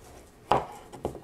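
A Huusk Japanese stainless steel santoku knife cuts a tomato on a board, two crisp close slicing taps spaced about half a second apart, with a soft rub between them and no talk.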